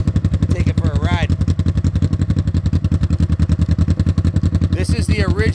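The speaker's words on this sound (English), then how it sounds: "The baffles have been slightly modified to give it that rip-roaring dragster sound that's coming out of it." A 1970 Honda CL450 motorcycle idles with its original factory exhaust, baffles modified for a louder note, giving a loud, steady, rapid throbbing pulse close by, with a couple of brief revving whines near the start and end.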